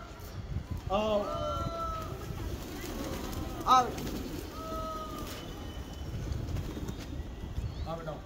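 A racing pigeon being flown by a pigeon keeper in Amroha, India, arrives with a few soft wing flutters and a brief burst of activity near the midpoint, while someone talks over it and other birds chirp in the background.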